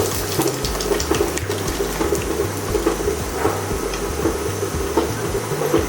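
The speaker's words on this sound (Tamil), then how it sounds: "மட்டன் வேகிறதுக்கு தண்ணி ஊற்றிக்கலாம்" Water pours steadily into a pot of village-style mutton curry (thin mutton kuzhambu), a continuous close splashing gush that runs evenly for several seconds with no voices.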